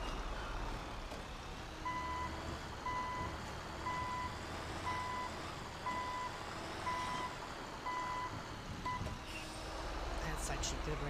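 A semi truck backs a trailer into place in GTA 5, its reversing alarm beeping steadily about once per second over a constant low engine rumble, with a voice talking over it.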